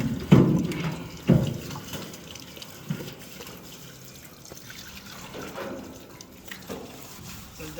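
Water running in for Berrenda cattle to drink, a soft steady trickle and splashing outdoors with a few louder knocks and splashes early on.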